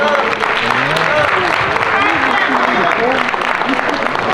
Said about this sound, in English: can y'all please give them a warm round of applause?